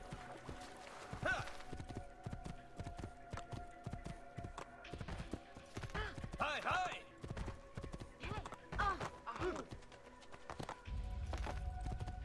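A horse in the video game Assassin's Creed 2 walks with a steady clip-clop of hooves, a whinny breaking through midway, while someone talks over the hoofbeats.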